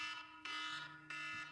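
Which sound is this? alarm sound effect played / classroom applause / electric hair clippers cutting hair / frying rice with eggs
alarm sound effect played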